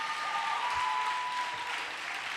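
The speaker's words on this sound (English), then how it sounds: "Can we get a round of applause for Jaribu Hill yesterday" An audience at a Law for Black Lives conference session applauds for Jaribu Hill: a steady, even wash of many hands clapping at moderate distance, with no voices over it.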